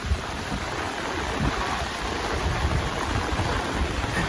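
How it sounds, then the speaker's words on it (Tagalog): Heavy rain outdoors, a dense, constant roar of hissing downpour close to the microphone with gusty rumble underneath, steady throughout and free of speech. "Super lakas ng ulan."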